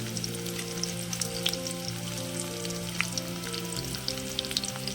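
Steady sizzling of tempering seeds and curry leaves in hot oil, with crisp scattered pops and crackles over a constant frying hiss, close and moderately loud.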